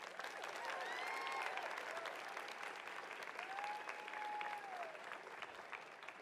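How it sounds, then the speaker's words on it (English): A graduation ceremony audience gives a sustained round of applause, broad steady clapping heard from a distance in a large hall, with a few whoops and voices rising above it. "Please give them one more round of applause."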